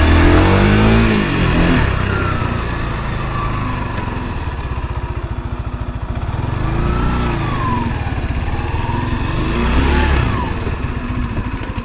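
Yamaha SR125 motorcycle engine running after a carburetor rebuild, revving up and down repeatedly in close, loud bursts with a rough, buzzy idle between, and no voices.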